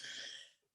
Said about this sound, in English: Excuse me, y'all, for coughing.